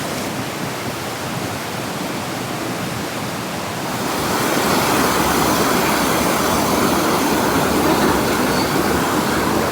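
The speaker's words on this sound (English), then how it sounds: "The stream's getting a bit smaller as we get higher" A mountain stream in New Zealand alpine bush rushes as a loud, dense, broadband hiss of flowing water that grows noticeably louder partway through and then holds steady, with no voices.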